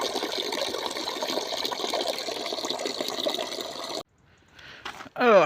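Dirty water gushes steadily from an unscrewed Suzuki Bandit motorcycle part into a tray on the ground, a continuous close pour that stops abruptly, followed by faint handling noises.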